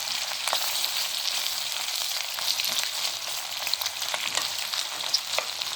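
A generous amount of onion softens in hot oil in a pot, giving a steady sizzle and crackle with a few sharper pops and faint stirring scrapes, and no voices.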